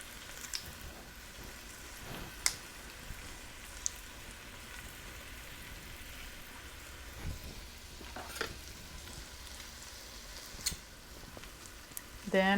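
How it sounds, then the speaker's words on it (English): Chopped carrots and other vegetables sauté in a pan for coq au vin, a soft steady sizzle running throughout with occasional brief clicks and taps of stirring, fairly quiet and with no talking. "I'm just going to cook these for a few minutes until the vegetables start to soften"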